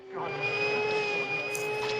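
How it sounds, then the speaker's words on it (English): A steady, droning motor whine with a constant high pitch, like a vacuum cleaner running continuously nearby, with a couple of brief higher hisses. "Is he trying to vacuum up the water?"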